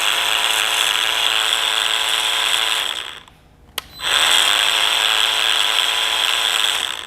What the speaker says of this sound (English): So again, at low speed, you can hear a little bit of a grind